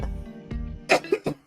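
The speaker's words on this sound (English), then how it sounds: "sorry about my cough." A person coughs close to the microphone, a quick cluster of three or four harsh bursts coming after a short low throat sound.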